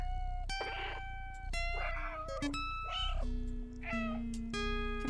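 A cat meowing in the video game Stray, several distinct plaintive meows one after another over a droning musical backing, loud and close.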